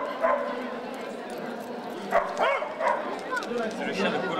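Dog at an animal festival in Boulogne gives a few short yips and bow-wow barks scattered through the clip, moderately near, amid outdoor crowd murmur and voices.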